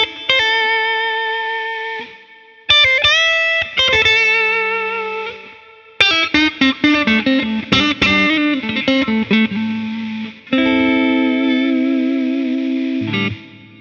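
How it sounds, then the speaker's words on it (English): An electric guitar with clean pickups, a Fender Stratocaster, plays clean, bright chords and arpeggiated notes with some chorus and reverb, alone with no talking. "whereas for this I can play something like,"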